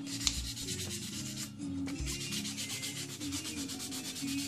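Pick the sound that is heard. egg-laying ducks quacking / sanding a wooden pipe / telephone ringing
sanding a wooden pipe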